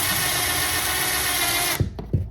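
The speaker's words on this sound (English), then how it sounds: "I'm gonna drill it like closer to the edge" A steady, loud power drill whirs continuously while drilling a hole near the edge of an IKEA BRIMNES wardrobe panel, then stops abruptly, followed by a couple of short thuds and handling noises.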